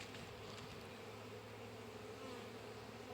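Honey bees buzzing in a hive being worked in March, with nurse bees on new brood frames, a dense steady hum filling the whole stretch, faint and continuous.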